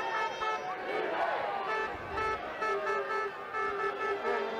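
A supporter in the Nottingham crowd at a men's hockey championship final blows a horn in several loud, tonal toots, each separated by short gaps, over a backdrop of crowd noise.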